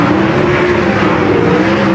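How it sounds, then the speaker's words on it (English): A pack of 360 sprint cars roars around a dirt track at a USCS event at Hendry County Motorsports Park, a loud, continuous engine drone with no voices over it. "He's trying to hang tough for Danny Oliver, again making a return to sprint car racing"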